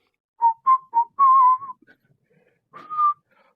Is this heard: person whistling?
yes